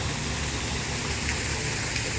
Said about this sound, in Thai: พามาชมน้ำตกเนาะ